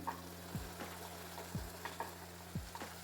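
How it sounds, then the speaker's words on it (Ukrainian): Grated carrot and onion stewing in a pan get stirred, with a soft steady sizzle beneath three evenly spaced scraping strokes of the spoon, close and low in level. "Це все добре перемішуємо, так щоб цибуля і морква разом гарно тушились."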